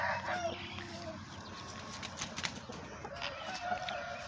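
Chickens, including a rooster, cluck and call amid farmyard noise, with some wing flapping, fairly close and steady throughout with no speech.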